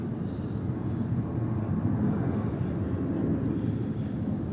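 A jet airliner on approach into SFO's runway 28, a steady broad engine roar with low rumble holding loud and even throughout, no voices.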